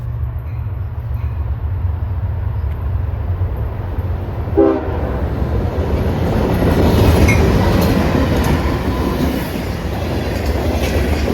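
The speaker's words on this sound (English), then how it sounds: "This next train is CSX L793 with 2 engines on the head end coming from Winston to Hialeah, Florida" CSX freight train L793 led by two locomotives rolls past, with a steady low engine rumble and wheel noise, a brief horn or squeal burst near the middle, and swelling rolling clatter as the cars go by.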